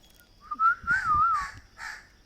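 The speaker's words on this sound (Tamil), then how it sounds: "காக்கா வந்துட்டு காக்கா வந்துட்டு" A few harsh crow caws ring out close by, mixed with a sliding whistle and some rustling, in short bursts.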